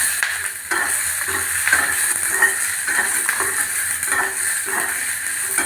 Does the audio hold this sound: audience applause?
no